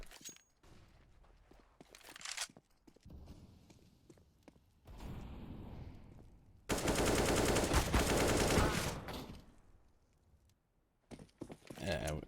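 Bursts of AK rifle spray fire in Counter-Strike on the Mirage map, with a long loud sustained burst mid-clip and shorter bursts around it, mixed with footsteps and other game noise.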